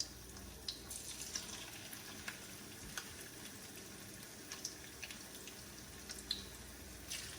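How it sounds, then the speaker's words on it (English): Spoonfuls of pakora batter frying in a pan of hot oil, a faint, steady bubbling sizzle with occasional soft clinks and pops, heard up close without talking. "So we're gonna fry it in like a small portion like this, and drop it down into our oil."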